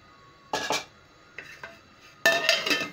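A cooking pot of achar gosht being covered: two loud clattering metallic clanks of lid against pot, a couple of softer knocks, then a longer rattling clatter, close and without speech.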